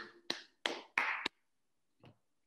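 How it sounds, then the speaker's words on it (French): One person claps hands four times in quick, sharp, fairly close strokes, then after a brief silence a single softer clap follows; quiet room, no talking. "permettez-moi d'applaudir"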